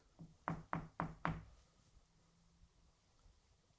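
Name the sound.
knock in a supposedly haunted house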